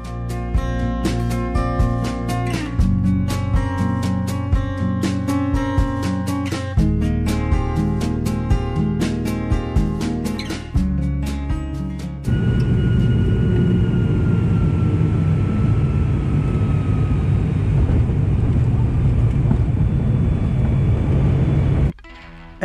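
Inside an Aer Lingus airliner cabin coming in to land at Dublin after a flight from Donegal, a steady, loud low engine and airflow roar fills the second half, following a stretch of rhythmic music at the start.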